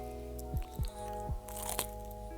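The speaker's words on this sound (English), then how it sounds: "Some good crunch for you all." Salty, greasy fried food eaten in Prague, close up and quiet. About four sharp crunches land in uneven succession over a soft background hum, with no talk.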